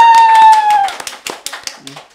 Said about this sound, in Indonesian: Tepuk tangan dong buat Gideon dong.